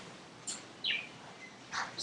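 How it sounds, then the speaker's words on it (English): Pet birds chirping indoors, a few short bright calls scattered across the moment, fairly close and clear against a quiet room. "these are my birds, Angel and Ranger."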